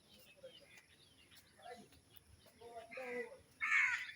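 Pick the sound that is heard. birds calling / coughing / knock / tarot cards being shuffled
birds calling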